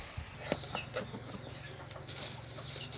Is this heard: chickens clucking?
yes